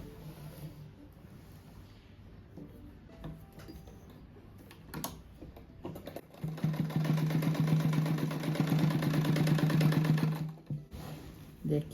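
A sewing machine stitches fabric scraps for a rag rug, starting after a quieter stretch and running steadily for about four seconds with a fast, even mechanical chatter before stopping.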